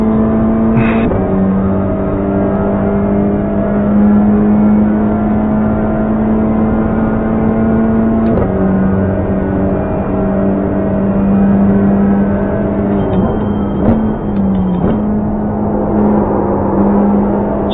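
A Honda Civic TCR race car at Monza holds a steady, loud engine drone heard from inside, with short shifts in pitch as revs change, continuous and close with no talk.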